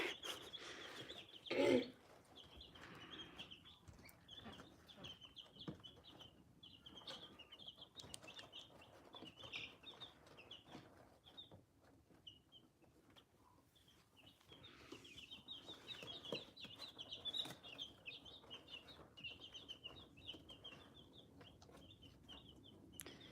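Baby chicks make faint, repeated high peeping calls through most of a quiet indoor scene, with one brief louder cluck-like burst near the start and soft rustling underneath.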